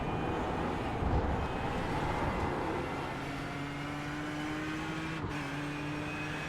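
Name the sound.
Ford and Ferrari race car engines at Silverstone, video game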